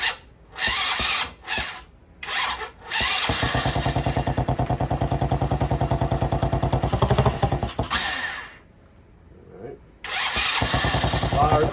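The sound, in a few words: 70cc quad engine starting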